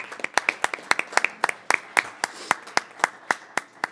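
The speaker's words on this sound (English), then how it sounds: "Let's have one more round of applause for our Bobcats." Crisp, steady claps ring out in a quick, uneven rhythm, a small group applauding together at close range for a few seconds at a city council meeting.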